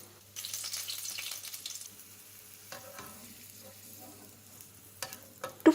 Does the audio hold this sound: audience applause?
no